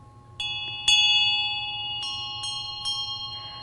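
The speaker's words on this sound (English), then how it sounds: "I'm just gently tapping that bell so it makes a lovely sound" A bright healing bell is tapped gently several times, each strike ringing out with long, shimmering sustain that overlaps the next.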